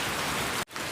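Steady, dense hiss of rain pouring down outdoors, loud and close, with one brief dropout near the end before the downpour resumes.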